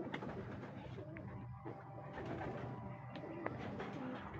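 Racing pigeons coo softly at a pigeon race pooling point, low repeated murmurs over a busy, faint background.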